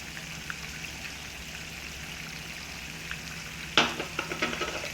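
Fish fries quietly in a pan with soy sauce, ketchup and oyster sauce, a faint steady sizzle, then one sharp stirring clatter followed by light scraping.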